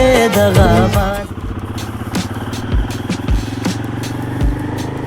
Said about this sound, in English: Damn, the exhaust note as well.